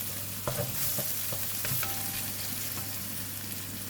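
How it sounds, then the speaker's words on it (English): Brinjal frying in ghee in a pan gives off a steady, close sizzle, broken by a few soft scrapes and taps as it is stirred, with no talking. "Now I'm putting in the curry powder. Give it a stir."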